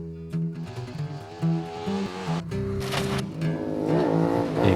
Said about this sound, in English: 3 bikes, 6 cylinders, 400 horsepower.